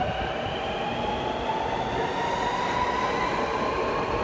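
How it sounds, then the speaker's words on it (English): A Sydney Metro train pulls out of Cherrybrook station, giving a steady loud rumble of wheels and motors with a rising electric whine, heard close from the platform with no talk. "Train now departing Cherrybrook Station, bound for underground to Castle Hill."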